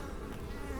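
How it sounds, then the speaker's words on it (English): Honeybees buzz steadily at close range, a continuous insect drone filling the short moment as they fly in carrying pollen in mid-November. "My bees are still bringing in November the 16th lots of pollen"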